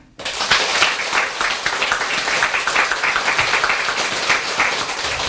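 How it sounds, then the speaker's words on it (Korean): An audience at a Buddhist Dharma service claps together in sustained, even applause that starts abruptly and continues steadily at close range. "고마운 마음을 다시 박수로 담아서 축원드립니다"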